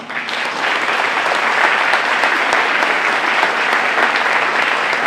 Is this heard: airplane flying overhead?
no